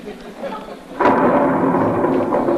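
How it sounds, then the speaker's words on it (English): A stage thunder effect crashes in abruptly during a 2001 student production of The Mystery of Edwin Drood, then holds as a loud, sustained rolling rumble after a quieter stretch of room tone. "What a storm on Christmas Eve."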